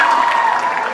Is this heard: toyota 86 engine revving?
no